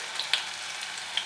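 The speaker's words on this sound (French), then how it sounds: "Je viens mettre mes oignons. Et on va juste les faire suinter." Onions sweat in hot oil in a saucepan, giving a steady close sizzle and crackle with a few sharp pops scattered through.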